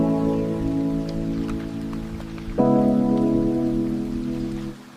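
Steady rain patters as a continuous wash beneath slow, sustained music, with no voices and no break in the downpour.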